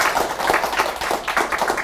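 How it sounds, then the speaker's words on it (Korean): Applause from an audience at a lecture on Ripple and XRP, a steady patter of clapping hands lasting under two seconds with no talk over it. "여기서 큰 박수 한번 주십시오"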